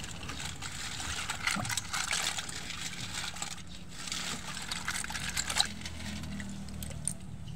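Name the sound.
water rinsing seashells being washed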